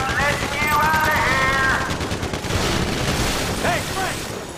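Rapid automatic gunfire bursts from a Grand Theft Auto 5 bank-heist shootout, loud and continuous, mixed with shouted voices and game effects.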